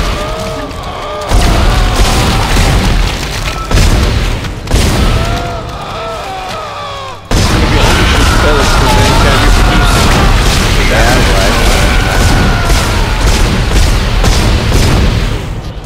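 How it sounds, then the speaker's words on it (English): Booming gunfire from the video game Dead Space as a creature's belly is shot, loud and dense with repeated blasts over a rumbling game soundtrack, with a sharp jump in intensity midway. "And now we shoot his belly."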